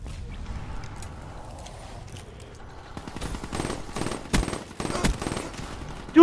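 Gunfire in a first-person shooter video game: sharp bursts of shots crack in a fast irregular series over the last few seconds, following a quieter stretch of low background game sound.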